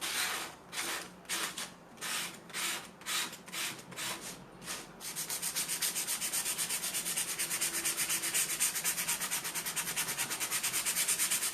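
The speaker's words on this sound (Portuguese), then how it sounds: "Pode lixar bem, sem medo de estragar, porque é isso que vai ajudar a cola a segurar aqui" Sandpaper is rubbed over the blue cover of a notebook. About a dozen close back-and-forth scrubbing strokes come first, then a fast, steady, continuous rasping sanding.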